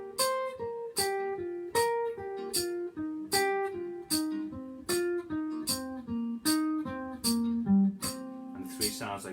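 Guitar plays a steady sequence of plucked notes stepping through a scale in groups of four, evenly paced and clear, with no talking.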